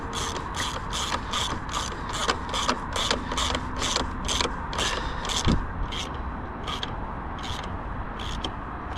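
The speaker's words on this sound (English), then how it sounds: "I'm gonna use a regular ratchet just so I can kind of feel when I start feeling it get kind of tight" A hand ratchet tightening the battery hold-down on an Infiniti QX80, a rapid run of crisp clicking strokes close by, steady rhythm with brief pauses, then slower clicks toward the end.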